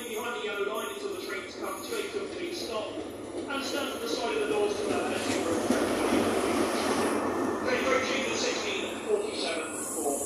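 A passenger train led by power cars 43093 Old Oak Common and 43004 Caerphilly Castle approaches with a rising, sustained rumble and wheel noise that grows louder and fills the scene. Someone talks over it.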